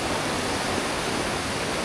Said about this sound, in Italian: si sente tantissimo il fiume dietro che scorre